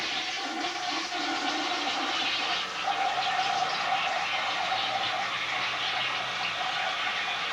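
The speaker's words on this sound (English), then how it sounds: "Okay, flush the toilet for us." A malfunctioning toilet in a town affordable-housing unit flushes in one loud, steady rushing gush that fills the whole stretch, close up, with no talk over it.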